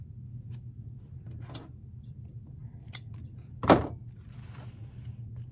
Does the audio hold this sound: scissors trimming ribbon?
yes